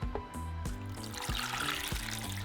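Water poured into a small pot holding five tomatoes and three jalapeños, a steady trickling pour with a few soft knocks, alone without speech.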